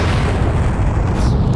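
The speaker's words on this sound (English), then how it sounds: "And the explosion sound is still going." Dense, loud rumbling explosion noise from the Far Cry video game fills the whole stretch, a broad sustained roar with no talk over it.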